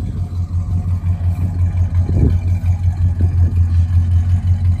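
A 1969 Plymouth Sport Fury V8 idles steadily up close, a deep rumbling drone with a slight blip of revving near the middle, loud and continuous with no talking.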